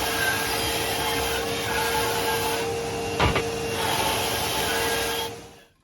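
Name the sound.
bandsaw rough cutting wooden ring pieces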